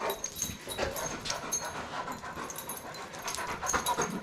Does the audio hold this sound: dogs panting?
yes